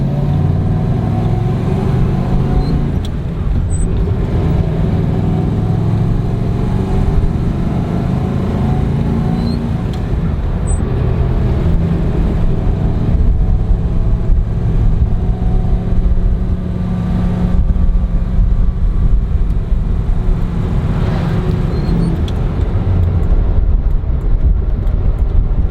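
A 1967 Oldsmobile 442 drives along with a steady, loud engine rumble and road noise throughout, rising briefly in places, with no talking.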